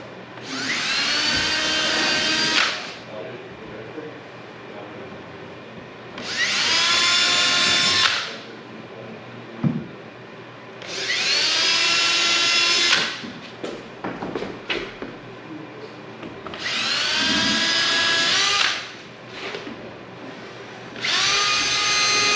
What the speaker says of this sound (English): I have my blocks marked on the fireplace where I want to drill a hole. 1/16 inch drill bit.